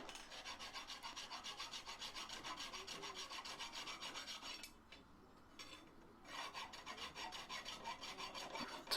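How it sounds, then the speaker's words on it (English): A hand rasp files a tiny burr off a tight-fitting metal part for a belt grinder, with steady rhythmic rasping strokes that are close and clear, pausing briefly midway before resuming. "Let's have another little go with the rasp."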